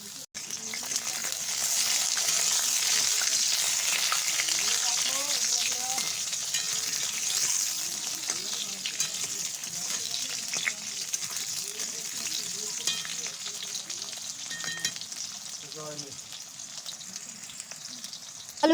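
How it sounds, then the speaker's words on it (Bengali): Loud continuous sizzling of eggplant frying in oil, with occasional stirring scrapes and crackles throughout. "তো এর মধ্যে দিয়ে দেবো হচ্ছে বেগুন"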